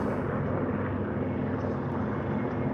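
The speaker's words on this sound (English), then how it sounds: "there's the rescue helicopter" A rescue helicopter flies over a winding stretch of Mulholland, its rotor and engine giving a steady, loud, continuous drone that neither fades nor breaks.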